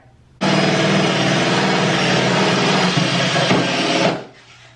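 A power drill fitted with a scrub brush whirs steadily against a filthy bathtub, with one loud continuous run of about four seconds that stops abruptly.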